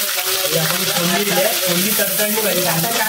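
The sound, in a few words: garlic, curry leaves and onion sizzling in tempering oil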